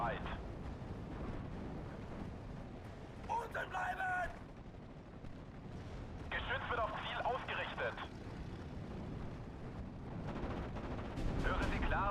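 Aircraft strafing gunfire in the Steel Division: Normandy 44 strategy game, as a Focke-Wulf fighter attacks an anti-tank gun, with bursts of rattling fire over a steady rumbling battle bed and someone talking throughout.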